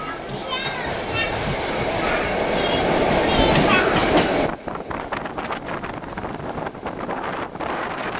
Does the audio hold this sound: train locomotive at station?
yes